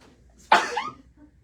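A single sharp sneeze bursts out close to the microphone, a sudden loud explosive puff that trails off within about half a second, followed by quiet.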